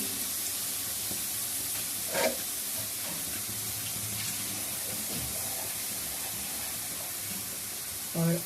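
Onions fry until golden in hot oil for a restaurant-style Lahori nihari, giving a steady, close sizzling hiss with a few soft knocks of the pan.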